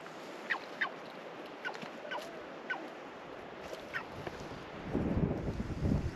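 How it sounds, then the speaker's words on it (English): A family of ducks with chicks near a glacier-fed lagoon, giving a few faint, separate honking calls over soft outdoor background noise, with a louder rustle near the end. "Here we have a family of ducks, guys."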